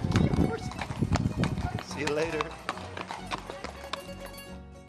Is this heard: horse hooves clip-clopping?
yes